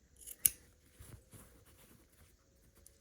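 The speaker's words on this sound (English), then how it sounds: "So I just use my scissors to trim this." A single sharp snip of scissors trimming quilt-block fabric overhang near the start, followed by soft handling rustles and faint taps.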